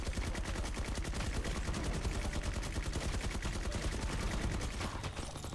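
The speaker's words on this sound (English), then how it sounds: "We used all up that heavy SMG before we could even see him" Rapid, sustained heavy SMG fire from a zombie-horde survival game, a dense unbroken rattle of shots running steadily throughout, loud and without talk.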